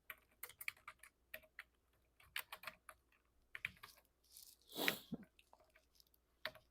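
Computer keyboard typing while writing a Python dictionary, heard as quick, irregular bursts of close, crisp key clicks with short pauses between them and no talking.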